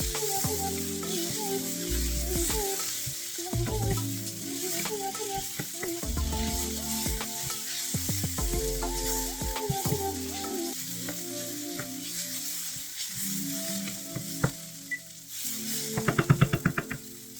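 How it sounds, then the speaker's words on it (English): Peppers, onions and black beans fry and get stirred in a pan, a steady close sizzle with intermittent scraping and a clattering stir near the end, over soft background music. "Cook and stir until soft and slightly charred"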